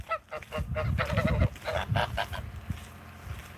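A goose honks in a quick burst of loud, nasal calls close by, then breaks off into a few quieter, scattered honks.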